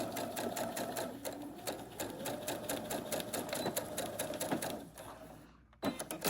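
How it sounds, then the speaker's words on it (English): A sewing machine stitches a 3/8 inch fabric seam for a drawstring storage bag, a fast steady needle rattle close up that runs several seconds before stopping briefly, then restarting. "we're just gonna stitch to the end here"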